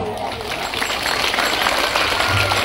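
A crowd of villagers at a large village festival claps loudly and steadily, with dense continuous applause and some voices mixed in.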